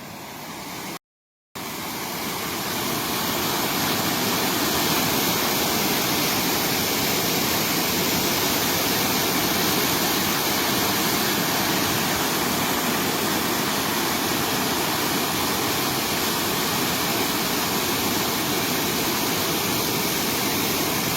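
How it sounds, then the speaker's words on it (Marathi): Continuous rain in Vengurla, with water levels rising after two days of downpour, makes a steady, dense roar that fills the whole stretch. A brief dropout comes near the start, and no one speaks. "गेले दोन दिवस हा पाऊस सतत सुरू आहे"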